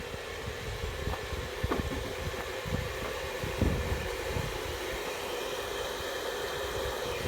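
Mitsu 3 hp centrifugal water pump running on solar power, giving a steady low mechanical hum with faint irregular knocks and rattles, continuous and fairly close throughout.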